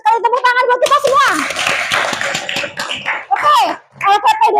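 A group of children claps in a classroom, the patter rising among lively young voices singing and chattering close by, with talk resuming at the end.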